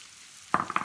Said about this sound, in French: Ensuite, je vais rajouter mes crevettes de ce côté